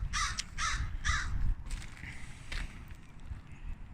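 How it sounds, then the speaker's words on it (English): Several crows caw in a burst of harsh repeated calls near the start, followed by fainter scattered calls and creaks against a quiet outdoor background at a house renovation site. "What are you mad at? Birds."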